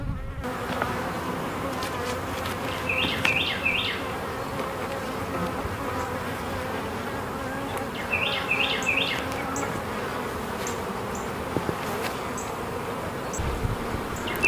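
Honeybees pouring out of an opened hive box during an inspection, a dense continuous buzzing swarm close by with occasional chirpy squeaks, no voices.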